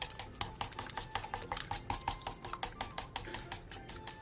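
Eggs cracked into an oiled pan with minced garlic and salt, stir-fried over medium-low heat: rapid, steady clicks and scrapes of a utensil against the pan, close and fairly quiet, with no voices.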